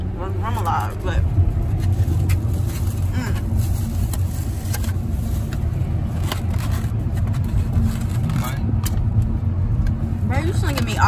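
A car drives through New Orleans, heard from inside the cabin as a constant low engine and road rumble with some rattles, while people talk over it.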